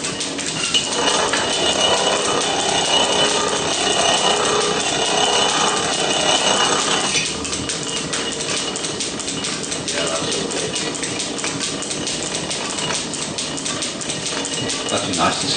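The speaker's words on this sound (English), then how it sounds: "That'd be nice to see the planer working." Belt-driven metal planer running in a workshop, a steady dense mechanical whirr and clatter with repeated stroke-like variations, fairly loud and continuous throughout with no talk.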